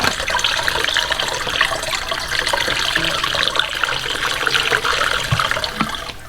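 Steady rushing of distilled water being poured for a 50-50 BMW coolant mixture, a continuous splashing flow with no talking, fairly loud and close throughout.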